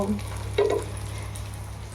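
A double-decker sandwich toasts in a hot pan with a steady, close sizzle over a low hum, broken briefly by a soft scrape.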